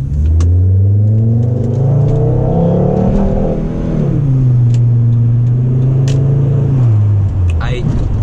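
A 1998 Volvo S70 T5 turbo accelerates with a loud, rising engine drone from inside the car. The revs climb, level off and climb again, and someone talks over it.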